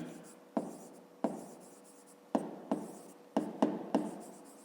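A pen scratches across paper while a fifth-grade maths multiplication problem is worked out, with repeated stroke bursts marking each digit as it is written, close and fairly loud with no talk.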